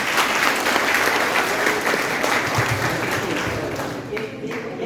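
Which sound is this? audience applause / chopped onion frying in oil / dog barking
audience applause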